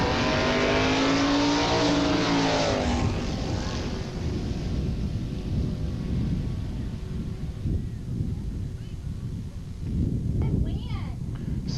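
Drag racing cars launching at Edinburg International Dragway in 1986, a loud roaring engine sweep that fades into a sustained rumble, with a voice talking over the start.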